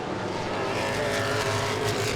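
Modified race cars bunch up in heavy traffic at Langley Speedway, their engines blending into a loud, sustained roar with a faint tire squeal.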